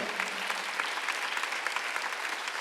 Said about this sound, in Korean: 반드시 이루어지는 걸 믿는 사람만 박수 하나 더 해주세요